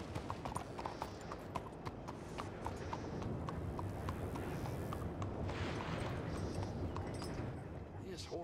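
Steady clip-clopping of a skinny horse's hooves at a walking pace in Red Dead, over a constant low rumble, with occasional heavier thuds mixed in.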